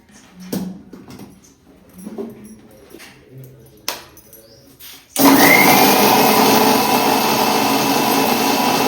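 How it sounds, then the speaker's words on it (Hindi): An electric mixer grinder grinds cooled roasted spices into a coarse powder, starting abruptly and running as a loud, steady, close whirring roar after a few quieter knocks of setup handling. "और मसाले जब ठंडे हो गए थे तब इनको हम पीस लेते हैं"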